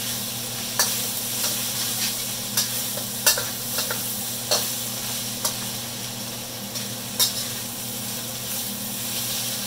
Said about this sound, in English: Get the ginger cooking, get that shallots that are minced cooking.